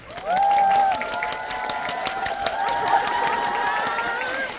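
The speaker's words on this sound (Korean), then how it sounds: "장한 감독님께 박수 한번 치고" Applause from a cinema audience at a film Q&A screening of the Korean film 'King and the Man Who Lives', honoring director Jang Hang-jun, steady clapping and cheering sustained throughout with a bright whistle-like tone over it.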